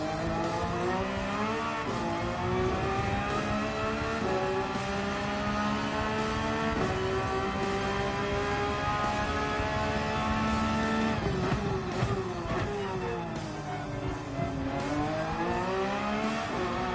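A race car engine in a racing video game time trial holds a loud, continuous roar for the whole stretch, with pitch climbing and falling through gear changes, alone with no talk.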